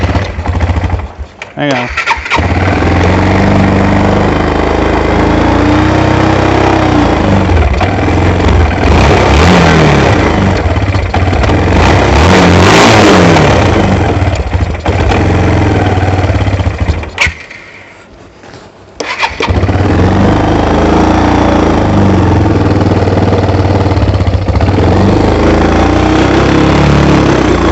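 A Kawasaki Bayou 220 ATV engine catches after carburetor repair and runs loudly and steadily close by, with rising revs midway, a brief drop to near silence, then resumed running under occasional speech.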